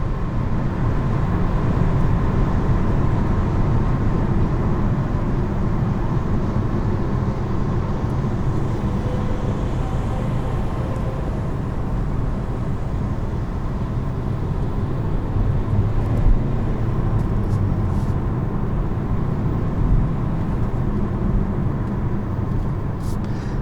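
A turbocharged 2021 Kia Soul Turbo is driven, producing a steady engine drone and road rumble from inside the cabin. The sound is continuous and fairly loud throughout, with no clear speech.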